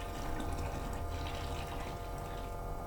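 Homebrew lemon wine making: 4.5 litres of boiling water poured from a stock pot into a brew bucket, a steady, full splashing gush close by, continuous throughout with no talk.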